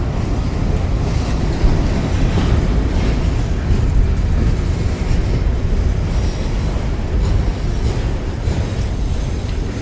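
A BNSF freight train with old BN hopper cars rolls past, a loud, steady low rumble and rattle of wheels on rail continuing without a break and drowning out everything else.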